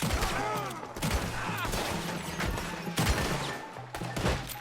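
Repeated gunshots crack through a Red Dead Redemption 2 shootout, in bursts over rumbling action noise, with characters shouting over the fire.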